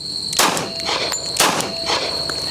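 Two sharp handgun shots about a second apart, fired while the shooter lets the recoil push the arm around with a deliberately limp wrist grip; loud broadband cracks with a faint steady high whine between them.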